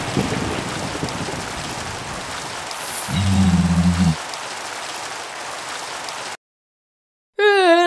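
Steady broadband rain hisses in Minecraft, with a low rumbling burst in the middle, then a sudden silence before a wavering tone cuts in at the end.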